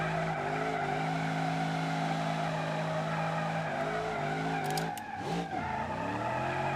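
A Nissan 200SX in BeamNG.Drive whirls through donuts, the engine holding a steady high drone under a long continuous tire squeal that warbles and shifts near the end, loud and close.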